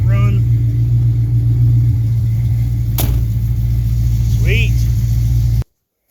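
A car engine idles steadily after a cold start at home, unrevved, with a loud, even low rumble throughout and one brief spoken word near the start, ending in abrupt silence.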